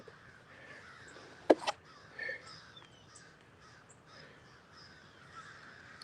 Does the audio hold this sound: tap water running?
no